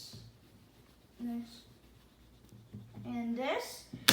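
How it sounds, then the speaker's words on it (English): A board is erased during a maths lesson, with brief scrubbing strokes in two short bursts, the second longer and more vigorous, close and moderately loud under faint room tone, with no talk. "So now let me erase this"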